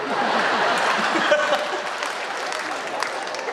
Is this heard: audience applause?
yes